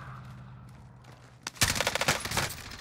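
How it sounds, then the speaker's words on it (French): Rapid bursts of video game gunfire crack out in a fast, dense rattle of repeated shots that erupt loudly after a quieter stretch and keep going to the end. "Ça me tire dessus."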